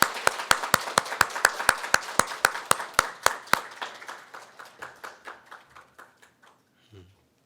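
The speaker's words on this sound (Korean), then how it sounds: "박수하겠습니다." A steady run of sharp, rhythmic claps from a small group at a Sunday church service farewell, slowing and fading into scattered claps before stopping.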